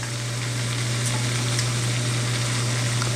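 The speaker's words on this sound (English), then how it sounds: "Make sure we're getting a nice good sear of our steak here." Steak searing in a hot pan, giving a steady, dense sizzle and crackle throughout, close and fairly loud with no talking.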